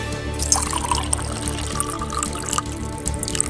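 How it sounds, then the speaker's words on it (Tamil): Tap water runs steadily into a bucket, a continuous splashing pour with faint drips, close by and uninterrupted. "இப்ப டேப்பை திறந்து தண்ணி பிடிங்க."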